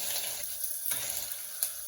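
Watery onion paste is spooned into a hot pan for an Indian spinach chicken dish, giving a steady close sizzle with light scraping and a brief louder splash near the end.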